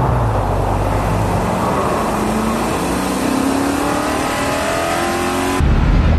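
A BMW X5 laps the Monza race track, its engine loud and close, the pitch climbing steadily through the gears under acceleration before a sudden shift near the end.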